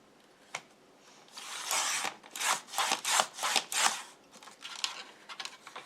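Paper bag being cut for an album cover, a run of rasping, rhythmic cutting strokes close by, preceded by a single sharp tick and trailing off into lighter scrapes.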